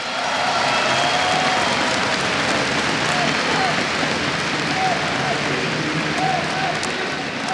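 Dense, continuous applause from a large audience at a Counter-Strike esports grand final fills the arena at a steady, loud level, with faint cheers rising above the clapping.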